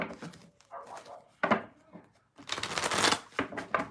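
Crisp riffling and shuffling of cards in a few bursts, close up, with short pauses between handfuls.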